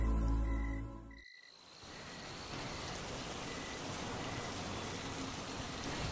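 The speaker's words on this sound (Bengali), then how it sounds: "রাত তখন গভীর, চারদিকে ঝড়, মুষলধারে বৃষ্টি।" A cartoon sound effect of a nighttime storm with torrential rain: a steady, dense wash of pouring rain follows a brief tonal opening, with faint croaking and insect chirps beneath.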